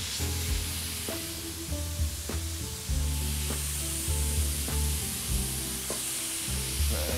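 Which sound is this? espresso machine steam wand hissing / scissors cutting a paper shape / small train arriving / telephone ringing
espresso machine steam wand hissing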